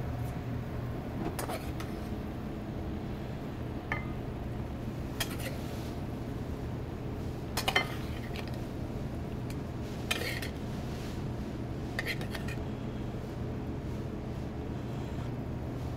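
Bananas foster and chocolate chip bread pudding being plated into a bowl, with a few faint, scattered utensil clinks and taps against a steady low background rumble.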